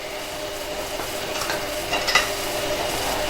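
A spoon stirs Ayamase stew in a pot over a steady sizzle, with a few light scrapes and clinks of metal near the end, close up and with no voices.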